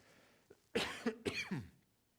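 A few harsh coughs in quick succession, close and fairly loud, followed by a short throat-clearing, with no talking.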